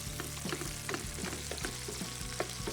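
Eight garlic cloves frying in a pan, a quiet, steady sizzle with soft crackles and occasional light clicks of stirring, no talk.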